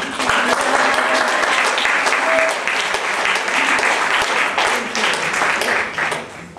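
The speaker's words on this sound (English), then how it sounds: "can we also give the, the whistle and the loud clapping for the other panel members as well here" An audience at a forum on equality in Muslim marriage breaks into loud, sustained clapping for panel members, dense hand claps close by with a brief whistle, tapering off near the end.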